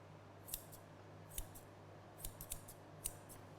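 Ten-inch grooming scissors trim the coat of a standard poodle, giving a series of crisp, quiet snips at an uneven pace, with no one talking.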